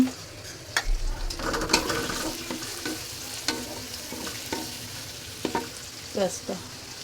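Broiler chicken stir-fried with cardamom and spices in a hot pan, with a steady sizzle broken by repeated scraping and clinking strokes of a spatula, close and fairly loud, with no talk.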